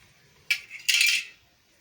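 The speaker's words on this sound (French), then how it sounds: "l'orange va rester debout comme ça et puis on va le couper" A knife slicing through an orange held upright, with two crisp close cuts, the second longer and rasping, against a quiet background.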